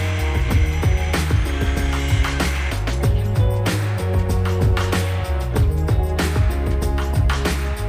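Power cutting tool grinding through rivets on a truck, with sparks flying and an axle nearby; loud, continuous harsh cutting with repeated sharp bursts and changing pitch, close and steady throughout without speech.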